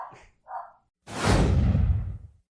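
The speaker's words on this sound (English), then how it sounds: "I hear the dogs." A dog gives one loud, close bark, with a short rough tail, after two brief softer sounds.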